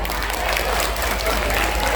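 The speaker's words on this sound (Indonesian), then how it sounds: "Tepuk tangan buat anak putra." An audience at a religious lecture breaks into applause, a loud, even wash of many hands clapping together, steady for the full stretch with a low rumble underneath.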